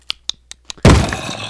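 A Minecraft zombie hitting a wooden door: four sharp, evenly spaced knocks, then a loud, close crash as the door breaks.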